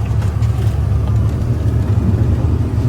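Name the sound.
truck driving uphill through snow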